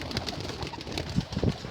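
Pure white Malwai pigeons coo softly in short repeated murmurs, close by and without any voices over them.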